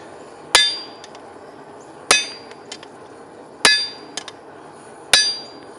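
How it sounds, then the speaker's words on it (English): Steel strikes a cutting plate on an anvil while forging a skinning knife: four loud, ringing hammer blows spaced about 1.5 seconds apart, each with a metallic ring that fades, plus lighter taps between. "Now you want to cut on the cutting plate so that way you don't damage the face of your anvil"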